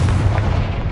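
Confringo blasting spell exploding in Hogwarts Legacy, a loud, dense booming blast with a heavy rumble that fills the whole second without a break.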